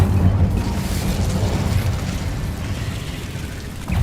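A fire spell, Incendio, is cast in the Hogwarts Legacy video game, a dense, roaring burst of flame and rumbling booms that holds steadily loud and close for about four seconds with no voices.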